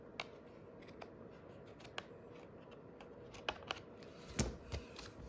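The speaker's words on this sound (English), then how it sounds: "I'm gonna flip it over, and I'm gonna trim." Paper being trimmed for a handmade Christmas card at a stamping class, giving quiet, sparse clicks and snips with one louder cut near the end, no talking.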